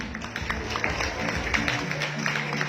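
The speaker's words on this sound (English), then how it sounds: "Let us give them a well-deserved and resounding applause" An audience at a pageant press presentation in Baguio City applauds steadily for the delegates, with scattered claps and cheers over a low musical background.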